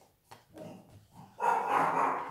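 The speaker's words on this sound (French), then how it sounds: "Ah, désolé, mon chien aboie." A pet dog indoors gives a few short, muffled yips and then a louder, sustained bark or whine near the end, fairly close, with no speech over it.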